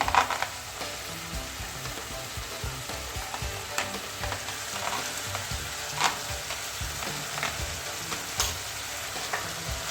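Steady, busy sizzling of chopped onions frying with liver in a hot pan, with occasional stirring scrapes and crackles throughout, no talking.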